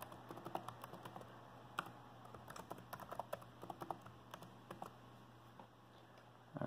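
Someone types a password on a computer keyboard, with quick irregular key taps over a low steady hum, fairly quiet and close.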